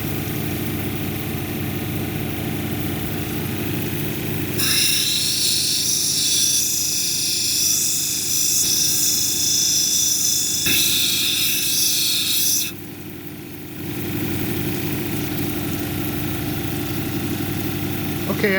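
A lapidary grinding wheel works a piece of Paul Bunyan plume agate on 220 grit, giving a steady motor hum with a brighter, louder grinding hiss through the middle stretch before settling back to the running drone.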